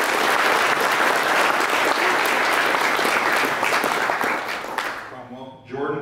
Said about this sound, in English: So I want everyone to give a big round of applause for our tournament host, Jordan Spieth.